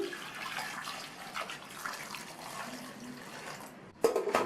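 Water runs into a pressure cooker holding halved raw plantains, a soft continuous pouring sound, then a sharp clatter near the end.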